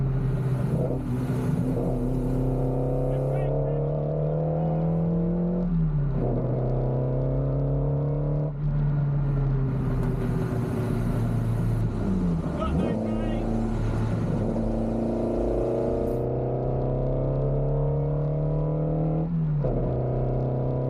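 A Ferrari Dino replica race car, the Jura, being tested on the Snetterton circuit: a loud, close engine holds a steady high-revving drone, with its pitch dropping briefly at three gear changes before climbing again.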